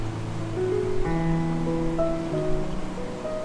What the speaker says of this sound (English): Just add water level with the beans.